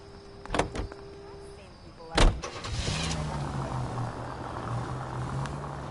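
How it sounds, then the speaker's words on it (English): A 1940s-era car in a detective video game on PS4: a door clunk and mechanical clicks, then the engine starts and idles steadily close by, with a low hum running to the end. "Nice car, Roy."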